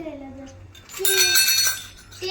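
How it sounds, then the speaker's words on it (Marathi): A child clattering and flipping plates around, bright clinking and rattling crockery in a short busy flurry, with adult speech around the noise. "आद्विकाने सर्व प्लेट उलटी पिलटी केली."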